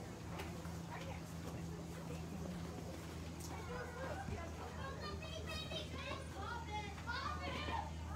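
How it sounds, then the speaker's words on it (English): Children play on a playground at a distance, their shouts and chatter forming a steady, fairly faint babble over a low constant hum, with some sharper voices rising toward the end. "listening to nice kids playing on the playground"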